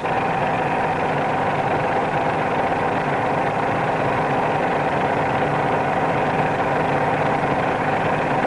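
A light airplane's engine drones steadily and loudly from up close, a continuous rumbling hum that shifts only gradually in pitch as the nose attitude changes during a climb.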